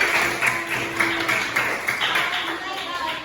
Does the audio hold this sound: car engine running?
no